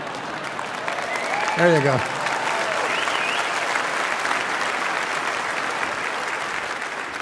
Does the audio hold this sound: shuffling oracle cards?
no